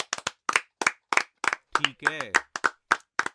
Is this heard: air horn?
no